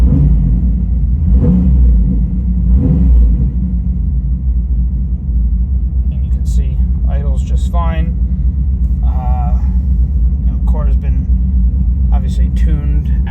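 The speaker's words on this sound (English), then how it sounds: "I'll give it a baby rev." A 1995 Pontiac Trans Am Comp T/A, engine not yet warmed up, rumbles low and steady with a gentle blip of revs early on, and a voice talks over the idle in the second half.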